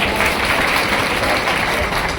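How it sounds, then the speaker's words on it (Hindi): Loud, dense applause from a large audience at a live stage show, a continuous roar of clapping held steady and close throughout. "इसी बात पे जोरदार तालियां एक बार और"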